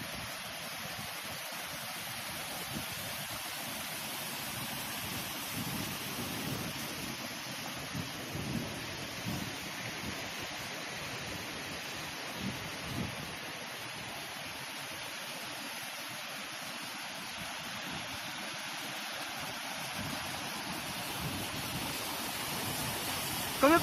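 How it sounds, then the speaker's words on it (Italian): A steady, loud wash of rushing water from the Saint Benoit waterfall roars continuously, dense and unbroken, with faint low rumbles underneath. "Si inizia a sentire l'acqua, lo senti?"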